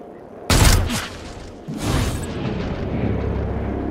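Breach gunfire in the video game XCOM Chimera Squad: a loud burst of shots erupts abruptly, then a second wave of gunfire and impacts follows and sustains with a rumbling tail.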